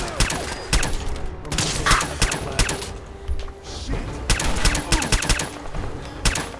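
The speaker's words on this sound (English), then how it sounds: "This is a good gunfight." Gunfire from a Fallout 4 firefight: bursts of rapid, close shots come in clusters with short gaps between them, mixed with mechanical clatter.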